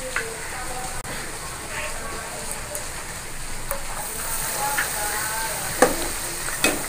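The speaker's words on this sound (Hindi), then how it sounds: "इसी तरह से हम सब ब्रेड के फ्राई कर लेते हैं" Bread pakoras fry in hot oil, giving a steady soft sizzle and crackle with occasional sharp pops and the clink of a utensil, close and continuous.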